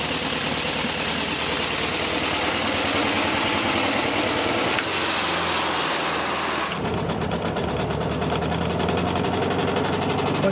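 A Volkswagen Beetle's air-cooled 1300cc, 40-horsepower engine idles steadily and loudly up close, with a buzzing, slightly uneven rattle that shifts character partway through.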